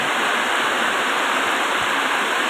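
Heavy rain falls over a rice farm in a loud, steady, dense hiss that holds evenly throughout, with no voices or other distinct sounds.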